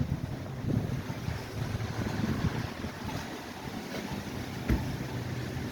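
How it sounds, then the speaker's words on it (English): Wind blows steadily outdoors near street construction, a constant broadband rush with a fabric sign flapping in it and a single sharper flap or knock near the end. "Can't read that sign because it's flapping in the wind."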